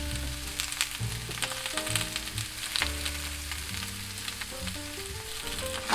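Vegetables including bean sprouts sizzle and crackle in a hot pan as they are stir fried, with the scrape of a utensil and steady frying noise throughout.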